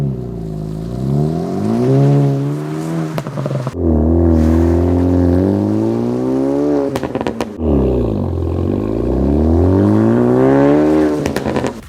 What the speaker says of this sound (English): Cat-back exhaust, a system that also includes the mid-pipe